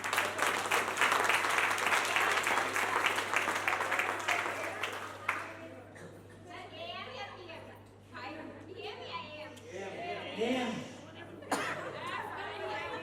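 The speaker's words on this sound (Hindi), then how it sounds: "ताली बजाओ जबरदस्त" A crowd at a motivational team training session claps in a dense burst of applause for about five seconds, then it fades into scattered claps, chatter and light laughter.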